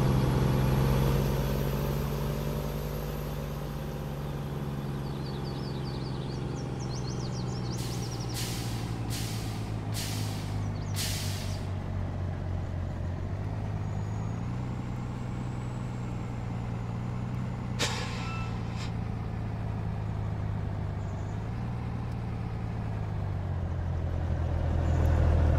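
A truck pulling a trailer in Farming Simulator 19, a continuous low diesel engine drone with slow shifts in pitch, a few sharp hissing bursts like air brakes partway through, steady and close throughout.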